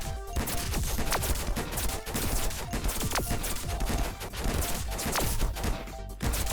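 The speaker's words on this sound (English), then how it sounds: "the AK is way better at clearing out enemies than the sniper was" AK rifle gunfire in the video game Bronana, rapid continuous automatic bursts layered with impact and crash effects, loud and dense throughout.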